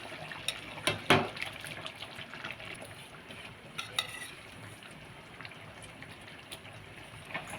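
Village-style fish curry made with pond fish simmers in a pot, giving a soft, low bubbling with a few sharper pops and clinks scattered through it.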